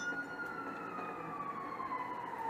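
A police siren in the GTA Online video game wails faintly in the distance, a single wavering tone gliding slowly downward over a low background rumble with no talking.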